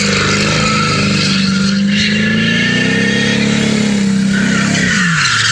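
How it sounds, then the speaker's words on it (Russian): A car drifting beside Magas airport building, its engine loud and close, revving in sweeping rises and falls with a long sustained wail that dips sharply near the end. "один автолюбитель показал свое умение дрифта прямо у здания аэропорта Магас"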